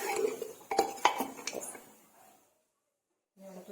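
Meat pickle being mixed with masala in a pot using a utensil rather than hands: several scraping clinks and knocks of metal on the pot, followed by a brief silence and a faint sound at the end.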